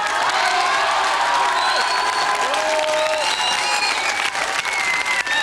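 A school audience applauds the champion team at the final of a mid-1990s Belgian inter-school quiz contest: loud, sustained clapping fills the whole stretch, with scattered cheers and whoops from the crowd.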